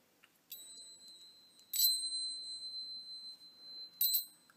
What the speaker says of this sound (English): show you the little finger bells that I have here